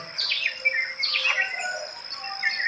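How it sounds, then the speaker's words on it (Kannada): Several birds chirp and trill at dawn in bright bursts against a quiet background on open rural land, one call following another. "ಹಕ್ಕಿಗಳ ಚಿಲಿಪಿಲಿ,"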